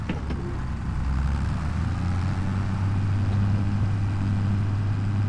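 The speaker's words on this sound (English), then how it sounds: "Okay, we'll take the old Ford tractor here." An old Ford tractor engine runs at a steady, loud low rumble, close and continuous with no talk over it.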